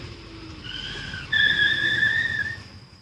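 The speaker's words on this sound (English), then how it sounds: "Ignore the car crash in the background." A car crash sound effect plays in the background as a drawn-out tire squeal, whining steady tones that rise in loudness midway then fade, with no talking over it.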